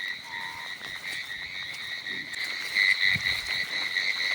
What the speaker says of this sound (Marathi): बघा रातकिड्यांचा आवाज बघा